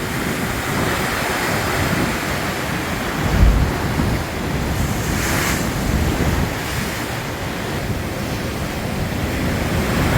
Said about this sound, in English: The sea is very angry.